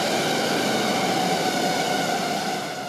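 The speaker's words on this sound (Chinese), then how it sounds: "无人机起飞，在羽球场大小的展场试飞区，以八字形路线来回移动" A drone takes off in a badminton-court-sized indoor exhibition test flight area, giving a steady, loud, even whirring hiss that holds without a break throughout.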